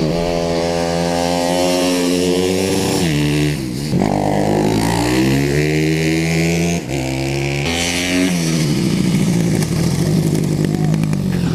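YCF prototype supermoto motorcycle ridden hard around a race track, its loud, close engine revving up through the gears with brief drops on shifts and deceleration, buzzing continuously.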